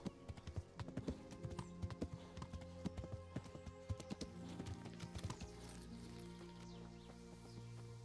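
Horse hooves clop in a quick, steady rhythm in the video game Kingdom Come: Deliverance, then slow and fade into a low ambient hum as the galloping stops.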